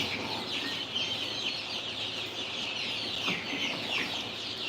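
A red Polish frizzle chicken in an indoor chicken room clucks softly amid a low, steady barnyard murmur, a few short clucks rising at moderate distance with no one speaking.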